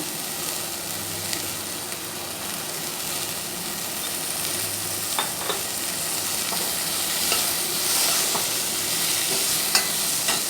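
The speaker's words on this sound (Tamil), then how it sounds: "இது நல்லா வதங்கட்டும்." Gentle continuous sizzle of tomato with turmeric sautéing in a pan, with occasional soft clicks of stirring, close and steady, no voices.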